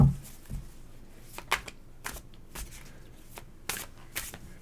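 Tarot cards being shuffled by hand in short, crisp riffling bursts, close and fairly quiet, repeated several times with pauses between.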